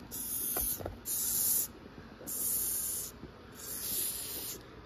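A female Madagascar hissing cockroach gives four long, airy hisses in steady bursts, each about a second long with short gaps between, close up and fairly loud, with no voices.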